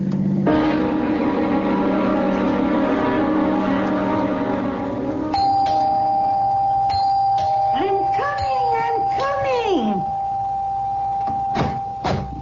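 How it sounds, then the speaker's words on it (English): A doorbell rings insistently as a sound effect in a CBS Radio Mystery Theater drama, its sustained buzzing tone followed by voices speaking over it. "Don't have to rip the bell off the door, young man."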